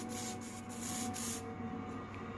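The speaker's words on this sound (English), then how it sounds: "Alright, now time to spray it." Hairspray hisses from an aerosol can onto a plush toy prop in soft, steady bursts, faint and close, with no talking.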